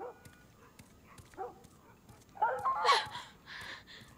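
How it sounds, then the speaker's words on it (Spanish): Barking from a neighbour's dog in The Last of Us, a few yaps and whimpers rising to a louder burst of barks near the end, with quiet indoor game ambience before it. "Madre mía, el perro del vecino."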